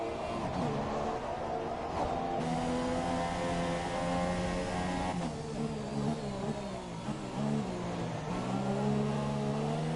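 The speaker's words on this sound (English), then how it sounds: "you can hear how easy on the throttle Edwards is coming out of the corner" An iRacing race car at the Australian GP comes out of a corner on light throttle, its engine a steady close whine that shifts pitch as it gradually accelerates, with no talking.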